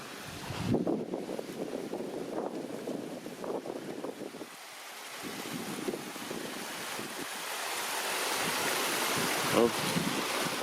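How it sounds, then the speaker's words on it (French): Small mountain streams on a summer hike in the Hautes-Pyrénées, by the Cirque d'Estaubé: a steady rush of running water, with wind buffeting the microphone and a few crunching footsteps and brief bumps near the start. "Quelques petits ruisseaux"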